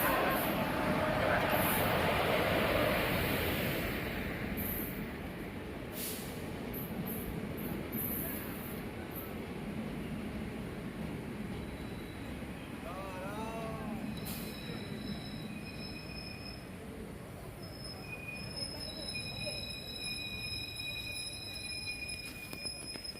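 The Shri Jagannath Express arriving at platform 3 of a station, a steady rumble of rolling wheels under high, drawn-out squeals of braking wheels on the rails, with faint station sounds around it.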